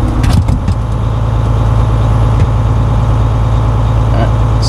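A diesel truck engine running steadily during a computer-forced DPF regeneration, a loud, even droning hum with a few light clinks near the start.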